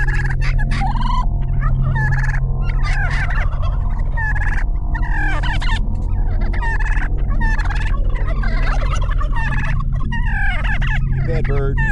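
Several turkeys gobble close by in loud, rapid, overlapping bursts, with short pauses between them.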